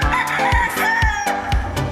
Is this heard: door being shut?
no